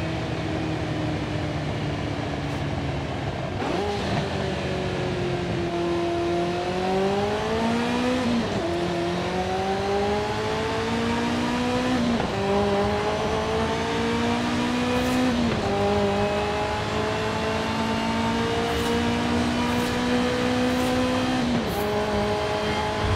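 A high-revving Ferrari F40 Competizione racing engine in a racing video game climbs through the gears, pitch rising steadily then dropping at each shift, loud and continuous throughout.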